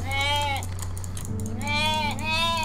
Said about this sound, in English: It's, basically a big sheep.